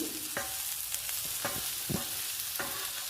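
Curry with eggs and onion frying in a pan, a continuous sizzle broken by repeated scraping stir strokes at an uneven rhythm, fairly quiet and close, with no talking.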